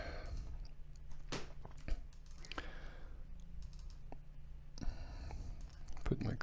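Computer mouse clicks while working in Inventor CAD software, several sharp close clicks spaced over a few seconds against a soft room hiss with faint background noise.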